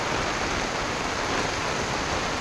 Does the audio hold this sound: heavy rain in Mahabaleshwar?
yes